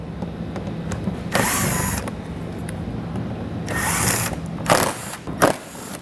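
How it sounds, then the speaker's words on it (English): A power driver with a T30 Torx bit removes splash shield fasteners on a 2022 Ford Escape, giving several short whirring bursts separated by pauses and light clicks, close by, with no voices. "We'll remove these with a T30 Torx bit."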